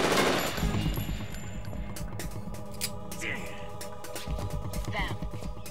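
Gunfire in the PS2 game Metal Gear Solid 2: Sons of Liberty: a rapid stream of sharp shots at the start, then scattered single cracks over music and effects, with voices speaking in between.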